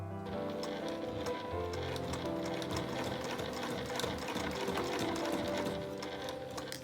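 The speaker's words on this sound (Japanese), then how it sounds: "職業用ミシンは結構馬力があるので、厚みがどんなに増していても意外と進んでくれるので、そんな怖がらないで速度を出しても大丈夫です。" An industrial sewing machine stitches through thick layers of bag fabric at the mouth of a bag, running continuously at speed with a dense, rapid mechanical clatter and no pauses.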